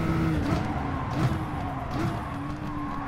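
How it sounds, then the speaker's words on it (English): A race car engine in a racing video game drones near its rev limit, steady with slight pitch wobbles and faint tyre scrubbing, fairly quiet and without talk. "If I leave it here, see it's just hitting the top of the revs"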